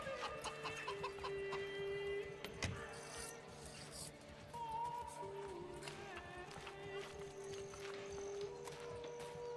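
Chickens cluck softly in the medieval city-building game Manor Lords, irregular calls over a busy village ambience with faint hoof clops and insects, at moderate distance with some speech.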